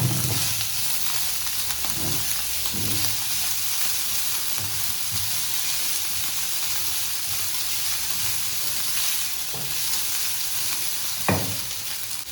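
About two cups of shredded chicken with white pepper fry in a pan, giving a steady close sizzle and crackle with occasional stirring scrapes and no talking.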